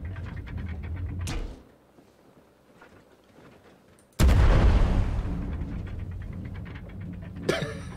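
A big gun firing in the video game Worlds Adrift: a short burst, then a sudden heavy booming blast that rumbles and fades slowly, with another sharp shot at the end.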